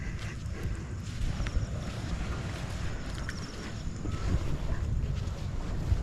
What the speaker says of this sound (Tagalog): At ang sasakyan namin ay ang bangka ng Planet So Weird.